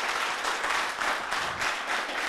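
An audience at a youth holiday event in Koumassi applauds, a dense and steady burst of many hands clapping that stays fairly close and lasts throughout.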